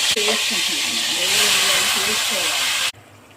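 Marinated prawns fry in hot oil with a loud, continuous, close sizzle under a person talking. The sizzle cuts off abruptly near the end.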